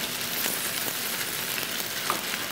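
Sauce for a seafood stir-fry noodle dish sizzling and bubbling as it reduces in the pan, a steady, dense frying hiss with faint crackles, alone without talk.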